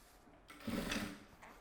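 A sewing machine stitches a fabric pencil case in one short, close burst of about half a second, preceded and followed by quiet handling noise.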